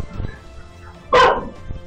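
Dogs at an animal shelter give one loud bark, with fainter yips and whimpers around it, in a mostly quiet space under faint background voices.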